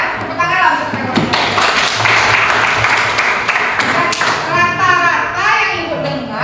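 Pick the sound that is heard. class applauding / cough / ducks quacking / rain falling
class applauding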